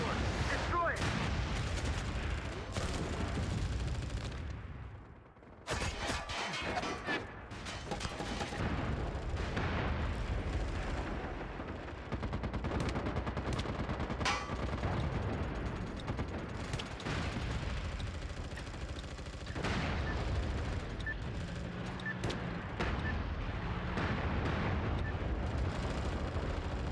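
Sensor shells and gunfire pound a battlefield in the PS3 shooter MAG, dense and continuous bursts of explosions and shots, with a squad voice calling out in the game.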